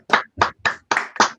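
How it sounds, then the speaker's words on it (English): Participants on a video call clap briefly, five or six distinct bursts of handclaps in quick succession, close and sharp. "we could just give a round of applause"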